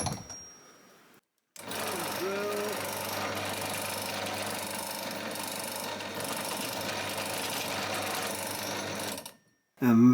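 Steady, continuous drilling into an inert .308 cartridge case held in a clamp, a constant mechanical whine with faint ratcheting texture running for about eight seconds between short pauses.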